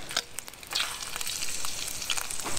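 Freshly caught brook trout fry in a hot pan, a steady close sizzle and crackle that runs on its own with no talking.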